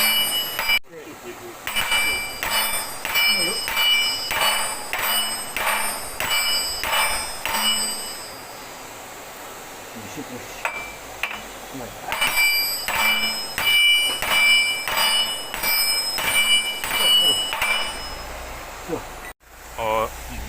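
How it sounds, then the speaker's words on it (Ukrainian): A hammer with aluminium inserts drives a bearing onto a YuMZ tractor gearbox shaft, giving loud, evenly spaced metallic blows in two steady runs with a brief pause between them. "набиваємо синхронно, б'ємо з обох боків. Молоточок у нас, ще раз повторюю, ось з алюмінієвими вставками."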